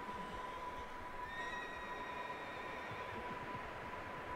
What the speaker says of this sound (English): The horse definitely seems spooked by something inside here.